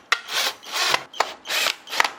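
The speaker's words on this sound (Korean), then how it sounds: "이 나사 두 개를 조여 주셔야 합니다" Screws being tightened on the bellows panel of a Paseco window air conditioner, heard as four close, rhythmic scraping rasps of plastic and metal, each beginning with a sharp click.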